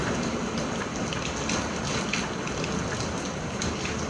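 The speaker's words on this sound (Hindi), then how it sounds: "पूरी रेन में, पूरी बरसात में, करनाल में जहाँ फुल बारिश आ रही है" Heavy rain pours down steadily during an outdoor session in Karnal, a dense, continuous hiss of drops striking surfaces, loud and even throughout with no voices.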